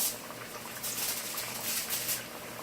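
Three empanadas dropped into hot oil on a stovetop, giving a steady, close hissing bubble of frying with dense crackle that swells and eases over a few seconds, no talking.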